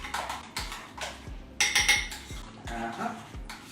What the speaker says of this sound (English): And then just give it a nice mix again.